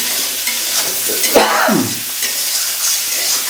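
A spatula stirs soybeans and eggs in a spiced curry with turmeric in a pan, close scraping and clatter over a low continuous sizzle.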